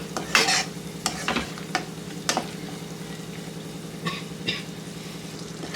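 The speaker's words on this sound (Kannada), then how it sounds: "ಈಗ ಇದನ್ನ ಲೋ ಫ್ಲೇಮಲ್ಲೇ ಹುರ್ಕೊಳ್ಳೋಣ." Puliyogre paste stirred and fried on a low flame, a constant gentle sizzle and bubbling with repeated scraping strokes of a spoon against the pan, close and steady, no voices.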